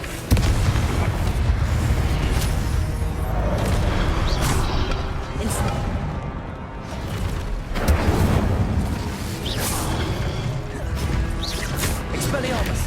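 Repeated Confringo blasting spell explosions in Hogwarts Legacy, loud booming crashes and bursts through a busy duel, several blasts spread across the stretch over a constant rumble, with some talk mixed in.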